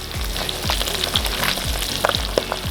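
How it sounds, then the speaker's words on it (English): Olive oil sizzling in a pan over low heat outdoors, cooking freshly caught rainbow trout; a steady crackling fry with repeated low stirring or scraping thumps throughout. "we're gonna put a little olive oil on top of that, baby"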